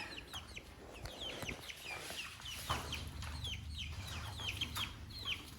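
A flock of farm chickens clucks and chatters in a busy, overlapping stream of short calls, close by against a low background hum, with no talking.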